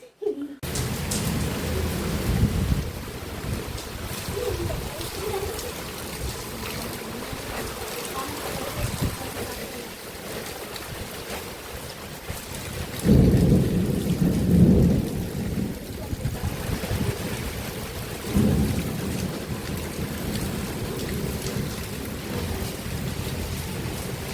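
Heavy rain pours steadily with gusts of wind in Bangalore, and low rumbles of thunder swell up twice, the stronger one in the middle.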